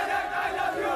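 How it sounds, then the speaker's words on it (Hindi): A crowd of Sachin Pilot supporters in Dausa, Rajasthan, chants 'Pilot zindabad' slogans in unison, a loud, dense roar of many voices in one brief burst. "उन्होंने राहुल को भूलकर एक सुर में पायलट जिंदाबाद के नारे लगाए"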